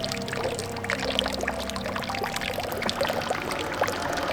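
Water pours steadily out of a soaked item aboard a sailing boat in Croatia, a continuous close trickling splash that runs without pause.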